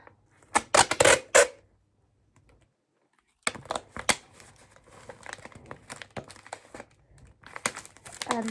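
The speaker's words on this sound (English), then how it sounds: "So you can just open some tape and just stick the piece of paper down." Sticky tape rips off a roll and gets pressed onto paper in a craft project, giving sharp, crackly tearing bursts, then a pause, then more irregular crinkling and peeling, close and fairly loud.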